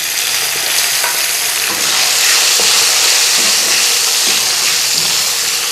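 Spices, green chili, garlic and lemon frying in a hot pan for an instant mixed pickle, a loud close steady sizzle and hiss with occasional stirring scrapes throughout, no voices.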